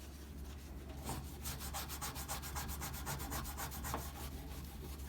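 Steady scrubbing of a stove with BioClean abrasive cleaner, a continuous close rubbing and sanding texture with rhythmic strokes throughout, no voices.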